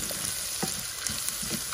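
Meat fries in a pan with chopped onions and one red and one green pepper, giving a continuous close sizzle with scattered crackles and stirring knocks; no one speaks.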